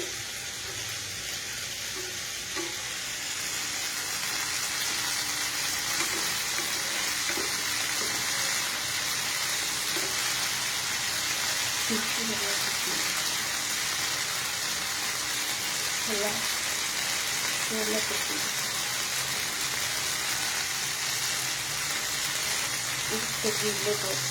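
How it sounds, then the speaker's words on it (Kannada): Food fries in a pan at a home cooking session, giving a steady, dense sizzle that runs throughout. A voice speaks faintly now and then beneath it. "ಫ್ರೈ ಆಗ್ತಾ ಇದೆ. ಎರಡು ಕಡೆ ಫ್ರೈ ಆಗಲಿ, ಅದು ಚೆನ್ನಾಗಿ."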